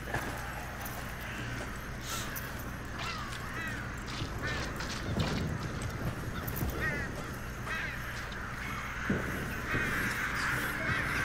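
Crows caw repeatedly among a busy outdoor ambience in the video game Redfall, a raucous flock calling at mid distance over a steady low hum, with scattered louder cries throughout.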